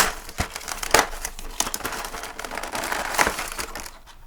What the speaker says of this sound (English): let's get this open, see what's going on here. Piece of tape.